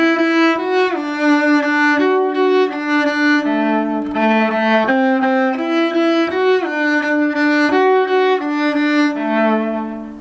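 A solo cello plays the next phrase of a song at a beginner level, bowed notes moving stepwise in a slow, even rhythm, close and clear with no talking.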